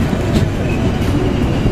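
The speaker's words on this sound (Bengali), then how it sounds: "ট্রেনটি থেমেছিল আবার যাত্রা শুরু করলো" A Lalmoni Express passenger train pulls away from a halt near Azimnagar Bazar, its steady rumble of wheels on rails close and continuous with faint clatter throughout.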